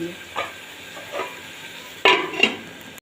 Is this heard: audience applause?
no